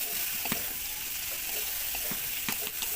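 Prawns stir-frying in spice paste, a faint steady sizzle with a few scattered spoon scrapes and taps against the pan.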